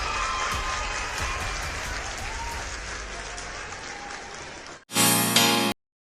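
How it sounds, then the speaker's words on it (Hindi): Applause from a small group at a podcast welcome, a dense continuous patter of clapping for several seconds, then a brief burst of louder closer clapping before cutting to silence. "तालियों की गड़गड़ाहट रुकनी नहीं चाहिए।"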